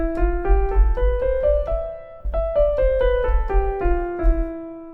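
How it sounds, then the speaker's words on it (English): A scale in the E Phrygian mode played note by note on a keyboard with a low bass note underneath, about a dozen stepping notes in two passes, clear and alone with no talking. "So that gives us a scale that sounds like this."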